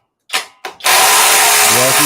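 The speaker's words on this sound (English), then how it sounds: "Jamie, that octane hammer drill is amazing." Cordless Octane hammer drill spinning up after a couple of short preliminary bursts, then running at full speed in a loud, steady, close-up whine.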